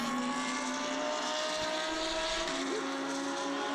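Race cars at the start of the 24 Hours of Zolder, including an Audi and an orange and black Porsche, heard as a steady, fairly distant chorus of engines droning together with a few faint pitch sweeps.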